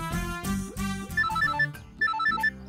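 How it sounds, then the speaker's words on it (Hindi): A phone ringtone chimes in a Bhojpuri film scene, a bright repeating melodic pattern of electronic tones, loud and close, with no talking over it. "अरे फोन हुआ।"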